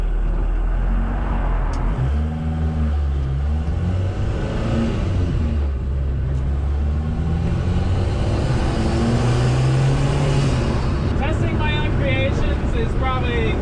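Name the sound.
VW 1.6L turbo diesel van engine with turbo spooling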